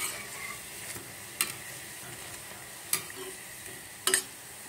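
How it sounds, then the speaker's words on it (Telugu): Dahi vada urad dal batter fries in oil over a medium flame, giving a steady soft sizzle with a few sharp ticks as a utensil touches the pan; no talking. "మంచిగా ఫ్రై అవుతుంది, మధ్యలో"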